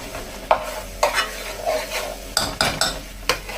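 Spices frying in a pan at a campsite, with steady sizzling beneath repeated scraping and clattering strokes of a utensil stirring and pushing them around the pan bottom, close and fairly loud.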